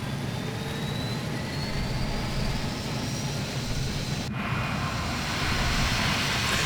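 Loud, continuous B-2 Spirit engine drone in Microsoft Flight Simulator 2020, with a steady low roar and high whine, rising slightly near the end; no voices.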